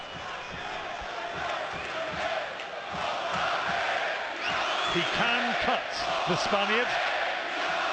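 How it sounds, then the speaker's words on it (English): The Bilbao crowd roars and chants at a European championship boxing match, a broad sustained wall of cheering, while a commentator talks over it. "listen to the support that he's getting from the Bilbao crowd"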